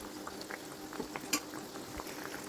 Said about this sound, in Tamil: மெதுவாக அப்படியே கிளறி விடுங்க, உடஞ்சிராமல். திருப்பி விட்டால் நல்லா வெந்து வரும் உங்களுக்கு.